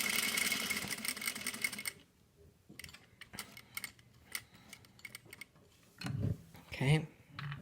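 A sewing machine runs fast and close while stitching fabric in parallel lines, then cuts off to near quiet with faint clicks and a few brief restarts.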